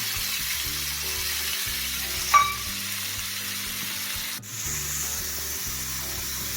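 Dried prawns fry in a pan with a continuous close sizzle and scraping stir, broken by a brief sharp clink of a utensil partway through; no talking.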